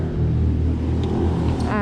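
A car engine in New Kingston, Jamaica, gives a loud, close, low rumbling drone that swells slightly as it starts to move off, with a faint voice near the end.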